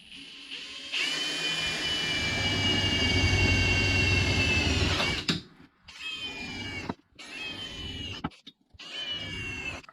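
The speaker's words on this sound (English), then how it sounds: "when you drill through your metal" A drill boring through sheet metal backed by a small block of wood, one long loud grinding whine for several seconds, then a series of shorter bursts with brief pauses between them.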